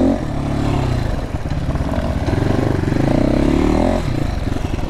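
A GPX motorcycle, either an FSE300r or TSE250r, rides along with a steady, loud mid-pitched engine drone and slight rises in revs, heard close with no talking.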